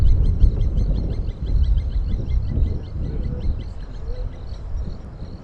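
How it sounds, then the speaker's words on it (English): A plover gives a repeated alarm call near water on a sunset safari drive. Its brief, high notes repeat steadily and sound faint and distant over a low, continuous rumble. "just the plover suddenly started calling"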